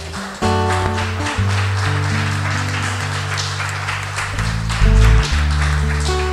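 A church congregation applauds during a worship service, a steady wash of clapping blended with sustained keyboard chords that shift beneath it, continuing at an even level throughout.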